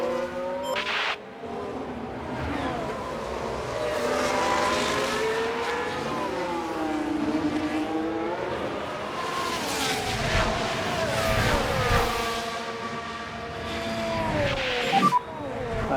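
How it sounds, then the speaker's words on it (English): F1 Manager 24 race cars scream around the Miami Grand Prix circuit, engines rising and falling in pitch as cars pass and rev, with brief tire squeals, loud and continuous throughout. "So Lando is now the car behind"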